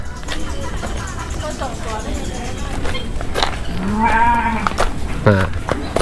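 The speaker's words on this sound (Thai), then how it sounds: "แกะครับผมไม่ใช่แพะ แกะนะฮะผม" Sheep at a petting area in Singha Park bleat in a few short wavering calls close by, mixed with scattered farm-animal noise and background bustle.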